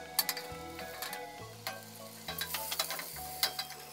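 Ingredients stir-frying in hot oil in a heated soup pot, a quiet close sizzle with irregular clicks and scrapes of a utensil against the pot and a low hum underneath.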